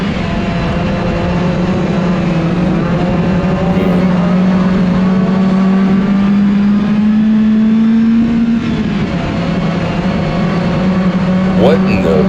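Car engine free revving while driving, with a suspected clutch, gearbox or motor mount fault; a steady loud engine drone rises in pitch over several seconds, then drops back, with speech under it.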